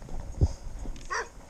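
A dog from a roaming pack near a rural roadside gives a single short bark and a faint whine, somewhat distant, over outdoor background noise.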